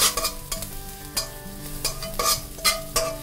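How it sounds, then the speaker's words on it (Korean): Shrimp and chopped scallions stir-fry in oil in a pan, a soft steady sizzle broken by repeated clattering strokes of a utensil against the pan, close by with no voices. "기름을 두르고, 뜨겁지 않을 때 파하고 새우를 넣어서"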